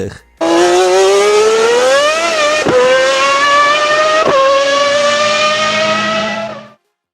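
A 1994-95 Ferrari Formula One race car engine screams at high revs, loud and close, rising steadily with two sharp gear-shift breaks before cutting off; a piercing, siren-like wail with no talk.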